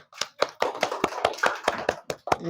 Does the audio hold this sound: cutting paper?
no